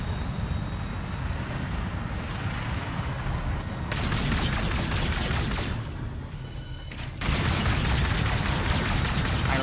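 Rapid automatic gunfire in the Call of Duty Infinite Warfare campaign, loud regular bursts over a constant roaring aircraft engine drone, with a short pause between the two bursts.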